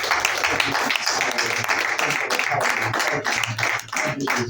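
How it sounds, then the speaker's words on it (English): Congregation clapping at a midnight New Year church service, a dense run of hand claps with audible individual hits, loud and sustained, with voices mixed in. "Let's give them a clap of applause."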